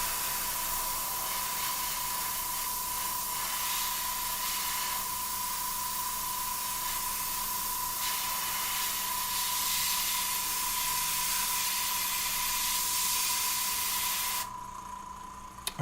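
Paint spray gun laying paint along a masking tape edge, a steady close hiss running unbroken for about fourteen seconds before cutting off abruptly, with a faint tonal hum beneath it.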